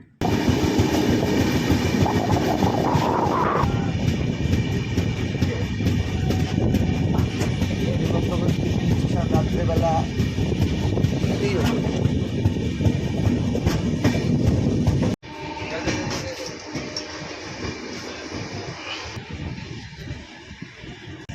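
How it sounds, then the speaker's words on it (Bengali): The 12838 Howrah Puri Superfast Express rolls into Santragachi Junction in monsoon rain with a loud, continuous rumble and clatter that drops suddenly to a quieter level near the end, while a voice speaks over it. "বঙ্গে বর্ষাকে সাথে নিয়ে আমাদের ট্রেন ততক্ষণে প্রবেশ করেছে সাঁতরাগাছি জংশন"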